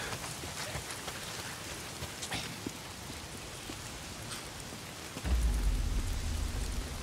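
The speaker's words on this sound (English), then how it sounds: "Why is it always raining?" Steady video game rain in Days Gone hisses throughout, then a deep rumble of thunder rolls in near the end and stays loud.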